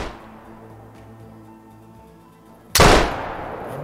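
A King 470 DB double rifle fires in the hunting game Call of the Wild: one loud, sharp shot that cracks in suddenly after a quiet stretch of low background hum, then decays into a short echoing tail.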